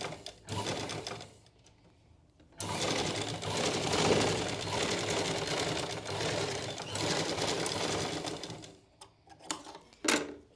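A sewing machine runs a straight practice seam in bursts, starting briefly, pausing, then stitching steadily for several seconds before stopping with a few short clatters, loud and close with no talk.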